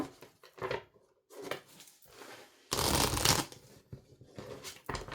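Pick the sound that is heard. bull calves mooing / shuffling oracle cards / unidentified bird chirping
shuffling oracle cards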